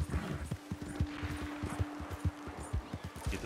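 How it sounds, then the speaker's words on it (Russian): Horse hooves clip-clop in a steady rhythm with a brief whinny in the Red Dead Redemption 2 video game, moderately loud with no talk over it. "Ой, лошадь."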